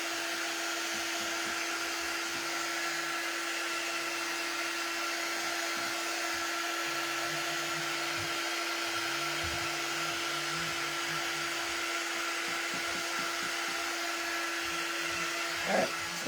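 A dryer blows on a painted wooden sign, a steady, loud whirring hum with a constant tone that runs unbroken for about sixteen seconds, with faint handling noises underneath.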